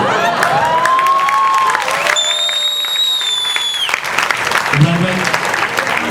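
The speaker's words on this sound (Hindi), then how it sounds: "अब एक मर्तबा भरपूर तालियां बजा के अपनी मौजूदगी का एहसास दिलवाइए मिलकर" A crowd at a televised public gathering claps and cheers loudly and continuously, with shouts, whistles and a high whistling tone rising above the sustained applause.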